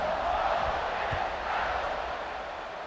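Football stadium crowd at kickoff, a dense, sustained roar of many voices that stays steady and fairly loud throughout, with no clear single voice standing out.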